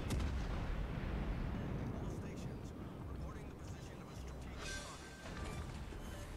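Naval gunfire in a warship battle game, with cruiser Atlanta and destroyer Mahan firing: dense rumbling booms and rolling salvos throughout, loud and continuous, with a voice talking over them.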